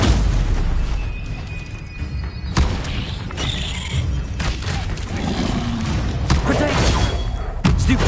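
Spell impacts from a Stupefy duel in Hogwarts Legacy, dull booming thuds and bursts landing repeatedly over a dense, continuous battle din, with a voice calling out during the fight.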